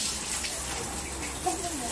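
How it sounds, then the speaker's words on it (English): Water splashes and runs during household cleaning, a short hissing wash of water close by with a faint voice underneath. "Daddy is cleaning. Splash. Splash."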